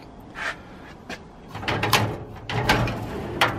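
Drawers of a Craftsman three-drawer ball-bearing middle tool box, 18 inches deep, slid open and shut several times, giving short metallic sliding rattles and knocks in an uneven sequence, close and fairly clear in a quiet room.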